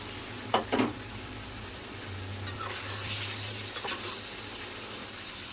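Curry frying gently in oil in a pan, the oil separating as it finishes; a soft, quiet sizzle runs throughout, with a few faint clinks near the start and one near the end. No one talks.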